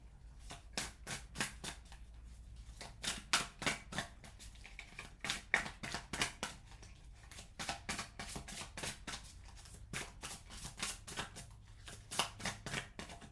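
Tarot cards are shuffled and drawn by hand in a rapid, rhythmic run of crisp riffling snaps and flicks, close and steady throughout with brief pauses between bursts.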